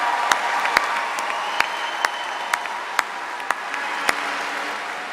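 Graduation ceremony audience for the class of 2025 applauding steadily, a dense wash of clapping with a few sharper claps standing out, moderately loud and continuous throughout.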